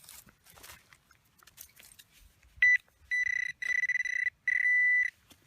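Metal detector searching over a buried crotal bell sounds four loud, steady electronic tones in quick succession, near and clear, after a stretch of soft rustling and scraping.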